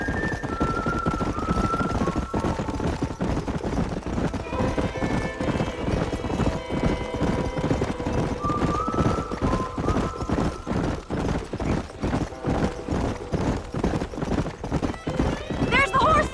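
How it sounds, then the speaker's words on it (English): Horses galloping with rapid, continuous hoofbeats and occasional whinnies in the Xbox 360 game Red Dead Redemption. The herd is close and loud, and characters talk over it. "There's the horses!"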